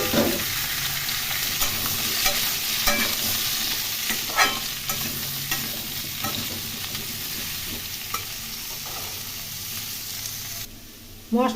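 Tomato and chopped papaya sizzle steadily in a hot pan, with a spoon stirring and scraping at intervals through the continuous frying hiss; no talking.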